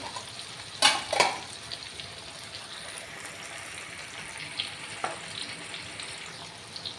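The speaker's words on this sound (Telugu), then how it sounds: "ఆయిల్ వేసి ఆయిల్ వేడెక్కినాక పోపు పెట్టుకున్నాం" Mustard seeds, fenugreek and urad dal hit hot oil with a sharp burst of sizzling and spattering, settling into a steady close crackle with a few stirring clinks.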